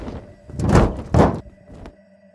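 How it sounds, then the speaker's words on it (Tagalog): Two loud, heavy thuds strike the roof in quick succession, deep and booming, followed by a quieter knock and then stillness. "may kung anong malakas na lagabog ang narinig niya mula sa bubong"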